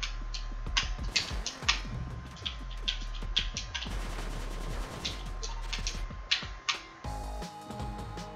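Rapid bursts of video-game gunfire in Cave Story+, shots putting out flames, crackling in quick succession over a steady low game soundtrack.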